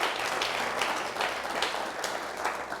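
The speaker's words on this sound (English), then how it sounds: "A round of applause for Franca." Audience applause for a guest on a talk show, a steady, dense wash of clapping from a crowd that holds at an even level throughout with no voices over it.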